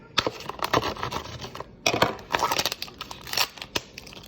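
Crinkly plastic packaging of feta cheese being cut open with scissors or a knife, close and busy with rapid scratchy crackles and snips over a few seconds.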